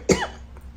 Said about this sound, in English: I might have to leave these coughs in here